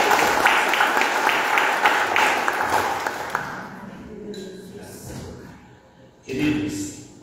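Congregation applauding a pastor at a church service: dense, steady clapping for about three seconds, fading into quieter murmurs and scattered sounds, with a brief swell of noise near the end.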